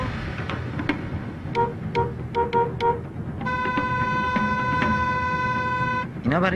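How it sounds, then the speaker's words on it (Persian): Car horns honk in street traffic: several short toots give way to a long sustained blare, over a steady traffic rumble. Other horns sound in the background. "برای کی بوق میزنن؟"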